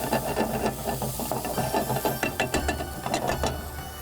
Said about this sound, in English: and start frying it.